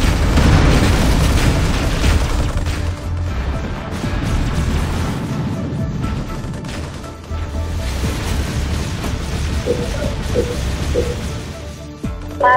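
Weapons fire and explosions in the real-time strategy game Halo Wars, a loud, dense barrage of booms and bursts that rumbles almost continuously with no clear pauses.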